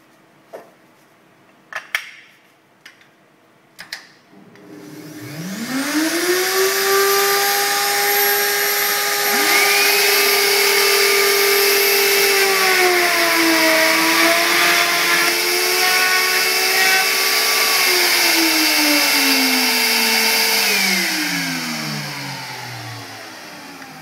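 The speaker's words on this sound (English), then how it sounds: "we'll cut that groove." A homemade groove-cutting tool cuts a V groove, a motor spinning up into a loud, steady whine with layered tones that dip and rise under load for about fifteen seconds before winding down, preceded by a few sharp clicks.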